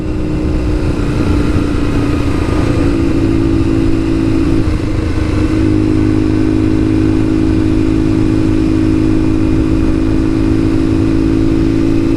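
A Kawasaki KZ750 Scrambler with knobby tires riding on a street, its mid-pitched engine droning steadily and loudly with a slight rise in revs early on, wind rush underneath, no talk.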